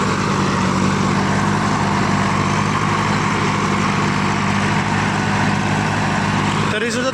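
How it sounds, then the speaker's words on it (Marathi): A tractor engine runs steadily as the tractor creeps forward slowly, a loud, continuous low rumble with no pauses that cuts off abruptly near the end. "ट्रॅक्टर हळूहळू पुढं जात आहे"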